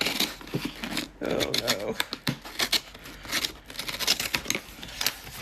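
Scissors cut through plastic packaging from a colouring supplies haul, giving close, irregular snips and crinkles mixed with rustling, while a person speaks briefly over the cutting.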